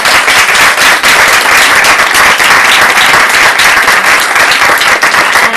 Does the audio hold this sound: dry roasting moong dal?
no